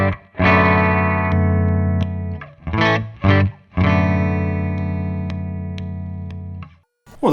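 An electric guitar with a single-coil pickup, played through a Keyztone Exchanger pickup enhancer pedal, rings out in sustained, slightly driven chords and short strums, loud and close, with no talking.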